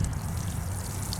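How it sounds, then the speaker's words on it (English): Water poured into a potato container, a steady soft trickle and splash running throughout, close and fairly quiet with no talk. "you just water it"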